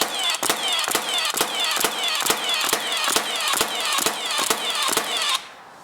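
A Milwaukee finish nailer bump-fires nails into wood, giving a fast, regular series of about a dozen sharp, loud pneumatic shots close by. Each shot is followed by a short hiss, and the sequence stops abruptly.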